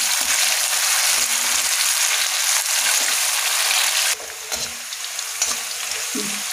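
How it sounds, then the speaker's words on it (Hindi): Cauliflower florets and potatoes fry on a high flame in hot oil, giving a loud, dense, continuous sizzle up close, with occasional soft stirring knocks and the hiss easing slightly partway through. "सबसे पहले हम फूल गोभी को डालेंगे, इसके साथ हम आलू ऐड कर देंगे। दोनों चीज़ों को हम भून करके निकाल लेंगे।"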